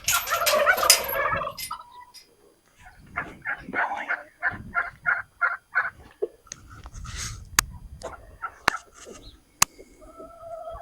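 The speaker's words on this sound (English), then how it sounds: "You got the turkeys out here making their noises," Turkeys gobble out in the yard among other farm animals, a run of rapid rippling gobbles repeating in bursts at close to moderate distance, with some clucking and rustling around them and a few sharp knocks.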